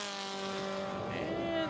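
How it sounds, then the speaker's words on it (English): A race car at an SCCA club race passes on the track with a sustained tonal engine whine that rises slightly as it goes by, and a commentator talks over it. "Next car through should be Alan Lucart III"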